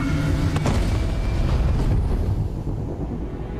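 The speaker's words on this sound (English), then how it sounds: "An explosion." An explosion in a Starfield game trailer hits as a loud, deep boom. It then settles into a long, rumbling roar that fades a little toward the end. No voices are heard.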